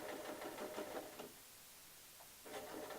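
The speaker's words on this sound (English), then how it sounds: "attaching it with the machine, and back stitching to secure it" Sewing machine stitching and back-stitching fabric to attach a piece of a girl's sun dress, running in bursts of rapid needle chatter with a quiet pause in the middle before starting again.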